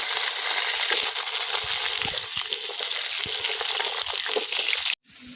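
Large, long-cut potato pieces sizzle loudly in hot oil for a katla fish curry, a continuous close crackle with small stirring clicks that stops abruptly near the end.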